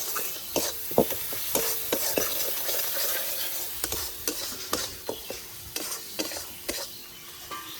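A spoon scrapes through mustard and poppy seed spice paste frying in a wok for chital fish, in a steady run of strokes over a soft, continuous sizzle, fairly quiet and close.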